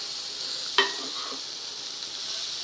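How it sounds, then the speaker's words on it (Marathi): Shredded cabbage being stirred while it fries in a pan gives a quiet, steady sizzle, broken once by a sharp utensil clink against the pan followed by a soft scrape. "थोडी घालून हलवायची आहे कारण ती कोबी कमी कमी होत जाते हलवल्यावर"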